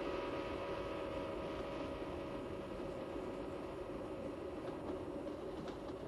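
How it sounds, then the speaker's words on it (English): A train passes with a steady, distant rumble and hum, a constant faint drone heard alone without voices. "if you're standing alongside the track when the train passes, you hear that familiar shift in pitch"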